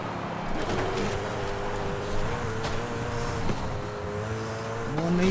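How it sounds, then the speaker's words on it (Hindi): A McLaren Senna engine in a racing video game holds a steady high-pitched drone that shifts in pitch as it climbs and drops, with a rising rev near the end, fairly loud and without talk. "वो पीछे से मैक्लारेन सेना चल रही है"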